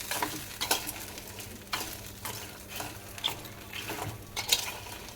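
Spiced masala chickpeas stirred in a sizzling pan, a spoon scraping and clinking against the metal in irregular strokes over steady frying hiss, close and moderately loud, no talking.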